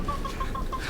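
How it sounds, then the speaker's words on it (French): A single hen clucks in short repeated notes at night, close and fairly soft, with no voices over it. "Ce n'était juste qu'une poule."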